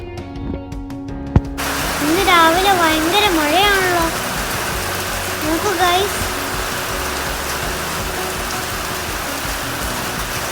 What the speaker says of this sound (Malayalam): രാവിലെ മഴയത്ത് കളിക്കാൻ പക്ഷെ ക്ലാസ് ഉണ്ടല്ലോ അല്ലു